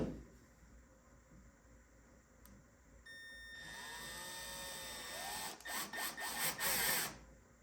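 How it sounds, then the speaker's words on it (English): A power drill with a countersink bit whines steadily, then the pitch rises and falls as the bit bites in, ending with a few louder grinding bursts up close. "I'm gonna drill in with this countersink bit."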